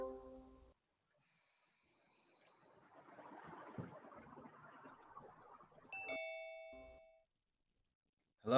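A phone gives a short electronic ding, a few bright tones near the end of a mostly quiet stretch with soft breathy noise and rustling before it.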